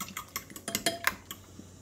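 A utensil beats passion fruit curd mixture in a bowl, making quick, irregular clinks and scrapes against the bowl, close and fairly quiet.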